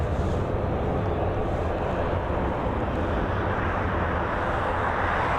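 An airliner climbs away after takeoff at Dublin Airport. Its jet engines make a steady, broad rumbling roar that stays even from start to finish, heard from a distance with no talk.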